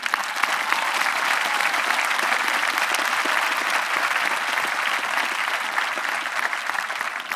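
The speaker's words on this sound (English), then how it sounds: "Give yourself a round of applause." A high school graduation crowd at Concord-Carlisle applauds in a dense, steady roar of clapping that holds at full strength for about seven seconds, with no voices rising above it.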